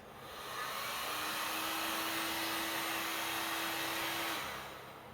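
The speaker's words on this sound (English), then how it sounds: "we're going to stand this far away and heat this outer side that's not in the oven." Heat gun on its highest setting blowing hot air onto the outer side of a plastic car headlight housing: a steady airy roar that rises in, holds evenly for several seconds, then fades out.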